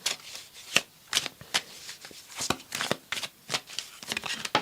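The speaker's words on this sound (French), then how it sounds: "On va prendre une carte du tarot." Tarot cards being shuffled by hand in a series of crisp, riffling bursts with short pauses between them, close and fairly quiet, with no talking.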